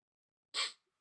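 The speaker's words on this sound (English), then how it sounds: "I feel like I'm going to sneeze." A single short, sharp sneeze bursts out of near silence, brief and fairly quiet, with nothing else around it.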